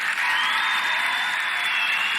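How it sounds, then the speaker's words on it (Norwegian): Studio audience on a Norwegian comedy TV show giving a big round of applause, steady dense clapping and cheering filling the room, loud and close for the whole stretch. "gi en stor applaus til Kjetil, mine damer og herrer."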